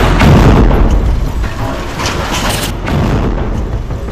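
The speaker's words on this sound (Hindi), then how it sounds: "हिजबुल्लाह के लड़ाकों ने अल बगदादी साइट पर हैवी बुरकान रॉकेट फायर कर दी" Heavy Burkan rocket fire and explosions from Hezbollah fighters striking an Israeli army position, a sustained loud rumbling barrage of booms with no pause across the whole stretch.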